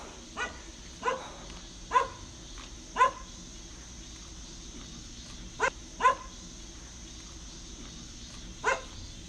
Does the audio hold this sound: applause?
no